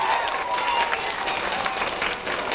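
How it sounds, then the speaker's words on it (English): Sustained round of applause from an audience at a school talk, steady and fairly close, carrying on the whole time without any speech over it. "Let's give her a nice round of applause."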